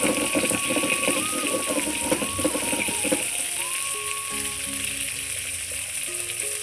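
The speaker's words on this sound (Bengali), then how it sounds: "এদিকে মাছ ভাজা হচ্ছে" Fish sizzles steadily in hot oil in a home kitchen, a continuous bright frying hiss with crackling bursts throughout, alongside soft clinks and shifting background tones.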